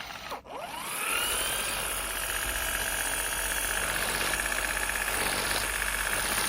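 The electric impact wrench from a 12V car jack kit spins up with a short whirr and then runs continuously, giving a steady droning motor hum with a faint rattling vibration close to the listener.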